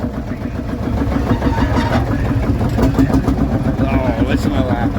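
A vintage Marshall tractor engine at an agricultural show runs loud and close with a steady low thumping beat that picks up slightly as it is revved, while people talk faintly in the background.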